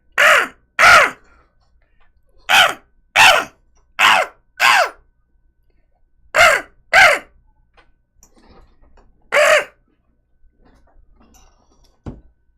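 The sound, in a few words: crow cawing in a video game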